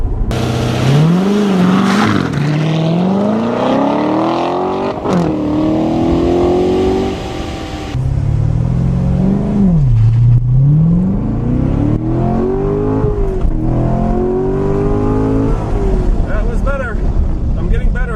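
A 2014 Chevy Corvette Stingray accelerates hard from 0 to 60 mph, its engine note climbing through repeated rising sweeps with quick dips at each gear change, loud and close, with a voice talking over parts of the run.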